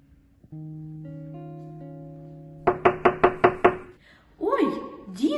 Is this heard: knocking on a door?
yes